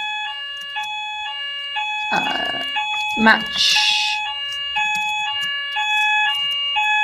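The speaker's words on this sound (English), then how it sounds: "I think that's the fire alarm practice." A fire alarm sounds during a practice drill, repeating a loud, regular pattern of stepped electronic tones throughout, with brief speech and a couple of nearby knocks and rustles.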